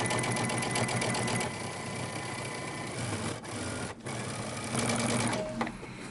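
A sewing machine understitches a dress lining about 1/8 inch from the seam line, catching the seam allowance, for a Simplicity 8611 dress or romper. It runs as a steady, close mechanical whir with a few brief pauses and no talk.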